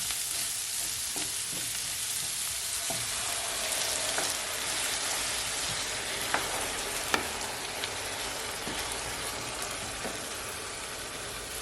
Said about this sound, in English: I'm gonna add my heavy cream